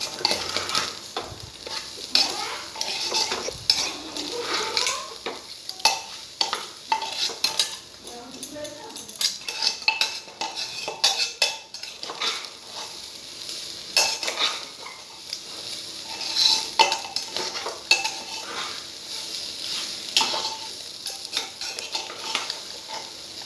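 Rice for pulao being stirred and fried in oil with a little sugar in a pan, a utensil scraping and clinking against the metal in irregular strokes over a soft sizzle, close and moderately loud.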